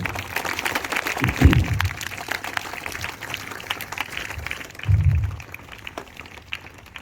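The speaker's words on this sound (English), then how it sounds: "So many congratulations and big round of applause for all the students." At a school special assembly, an audience claps for the students with a dense, steady patter of applause that carries on throughout, with a couple of low thumps standing out.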